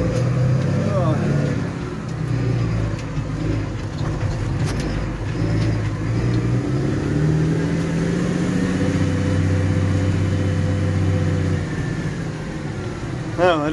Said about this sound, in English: we have the trailer on, we're in gear, and we're about to head off